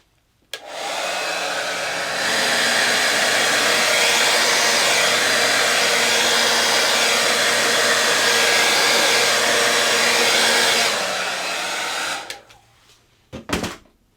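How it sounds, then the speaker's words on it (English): A blow dryer switches on and runs with a steady, loud whirring roar for about eleven seconds, then cuts off, followed by a few brief clicks. "let's try the blow dryer first"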